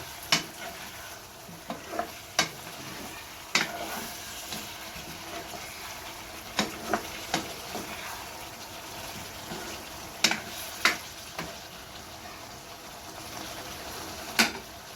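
Potato and cauliflower curry with coriander powder and black pepper is stirred in a pan over a low flame, giving a steady soft sizzle with scattered spoon scrapes and clinks throughout.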